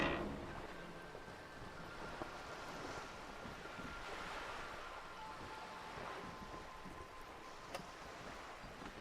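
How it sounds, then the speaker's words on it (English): Wind and sea in Disco Elysium, with a sail flapping over the waves: a faint, steady wash of surf and breeze with small soft flutters, and no voices. "The wind flaps the sail above her."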